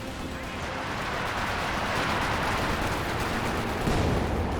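Tank guns fire in Company of Heroes 2 amid a thick, continuous wash of battlefield gunfire and blasts, loud throughout with a sharper hit near the end.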